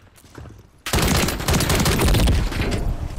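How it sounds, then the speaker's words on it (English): Battle rifle gunfire in Call of Duty: Modern Warfare III, a loud, sudden onset of rapid, close shots that keeps going for over two seconds after a brief quiet lead-in. "I hit that guy with like four shots from a battle rifle and he didn't die"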